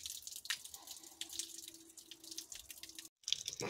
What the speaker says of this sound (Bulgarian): Ще бъде изплакнат с вода и водата от кофата ще се върне в съда